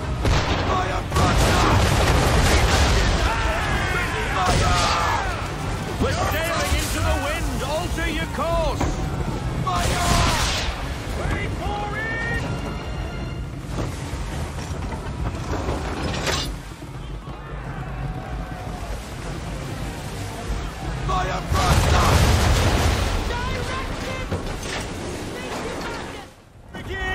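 Broadside cannon fire from a sailing warship in Assassin's Creed III, heavy booming volleys rolling out at intervals over constant sea and battle noise, with shouted voices throughout.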